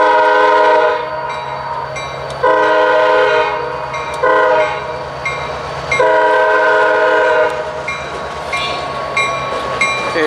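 NYS&W locomotive 2514 rolling on rails near former West Shore tracks, sounding its horn in several loud sustained blasts with short breaks, over a steady diesel rumble and rail noise.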